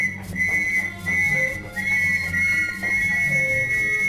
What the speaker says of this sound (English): it was he that blew the whistle and raised the alarm